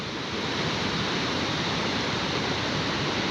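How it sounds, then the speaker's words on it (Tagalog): Loud, steady roar of rushing water from a nearby waterfall at Togonon Falls, a dense continuous wash of noise with no break. "napaka ingay ang tubig"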